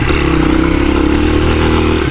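A 1983 Honda XR200R dirt bike with a small 15 hp engine rides through tight woods. Its engine drones loudly and steadily at close range, with a slight clatter and no talking.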